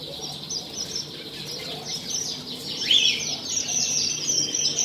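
Caged birds at the Al Ain bird market in the UAE, with doves nearby, fill the air with a dense chorus of overlapping chirps and tweets. Several sharp calls stand out against a constant background twitter.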